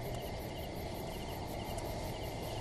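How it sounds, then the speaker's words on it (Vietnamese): Crickets chirp at night in a dense, continuous high trill that keeps going over a steady low background hum, with no voices. "tiếng dế kêu ren rét"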